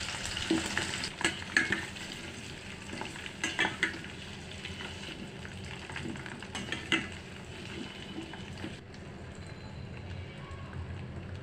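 Raw mango pieces hit hot mustard oil and fry with a steady, crackling sizzle that stays bright throughout, broken by a few louder spits and the clink of stirring, with no voices.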